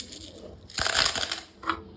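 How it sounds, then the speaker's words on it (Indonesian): A few coins clatter into a cash-stuffing coin container, a quick burst of metallic jingling followed by a brief second clink, close and fairly loud in an otherwise quiet room. "kita masukin aja ke uang koinnya"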